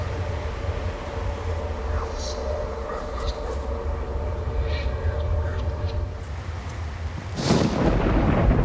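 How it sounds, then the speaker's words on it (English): Continuous low rumbling from a thunderstorm in the survival game DayZ on the Namalsk map, with scattered faint cracks, building to a louder, broader roll of thunder near the end. "I could have sworn I heard a loud thunder-like banging."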